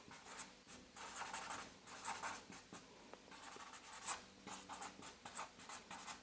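Hand writing of words during an art lesson on the colour wheel, quick close scratchy strokes of a pen or marker in irregular bursts with brief pauses, no talking.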